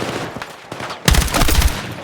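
Gunfire in the Battlefield 6 campaign, a loud rapid fusillade of automatic shots erupting after a quieter first second and continuing close and dense to the end.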